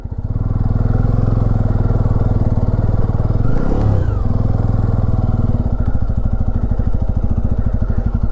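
Motorcycle engine on a sandy forest trail near Arambagh, running loud and close with a steady throb, briefly straining and revving midway as the wheels slip in the sand.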